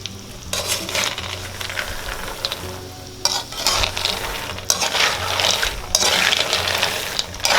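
Peanuts fry in oil in a pan while a utensil keeps stirring them, producing continuous sizzling with recurring bursts of scraping and rattling, close and fairly loud.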